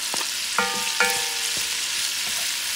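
Celery, green peppers and onions sauté over medium heat in a pan with sausage and shrimp for jambalaya, giving a steady loud sizzle broken by a few light utensil taps.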